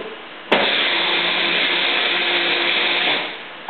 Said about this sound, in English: I'm going to put it in my magic bullet real quick, and kind of noisy